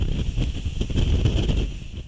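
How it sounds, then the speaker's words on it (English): Super Typhoon Haiyan's winds roar as a loud, gusty, rumbling blast buffeting the microphone, with a dense low-end rumble throughout. "Super Typhoon Haiyan has made a direct hit on the island."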